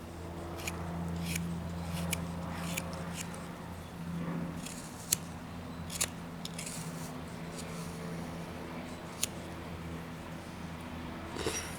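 Knife shaving wood while whittling a small bowl and spoon, with quiet scraping cuts and several sharp little clicks and snaps against a steady low room hum, close and faint.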